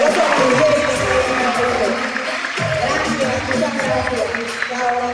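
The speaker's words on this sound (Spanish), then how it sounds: "Aplauso para las mujeres" A live Cuban comedy audience applauding at the close of a show, dense sustained clapping mixed with crowd noise, while a voice speaks over the clapping.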